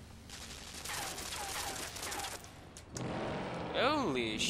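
Gunfire in the video game Limbo, a fusillade of rapid shots cracking over several seconds, with a person talking over it and a rising tonal sound near the end.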